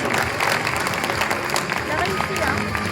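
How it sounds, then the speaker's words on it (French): Dense, sustained applause from an audience at a Chartreuse cocktail competition in Megève, steady crowd clapping mixed with some voices throughout. "Un maximum d'applaudissements pour Thomas, s'il vous plaît."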